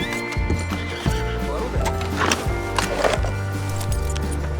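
A horse in the Red Dead Redemption 2 video game gives a short whinny and snorts over plodding hoof clops and background music, while a person talks nearby.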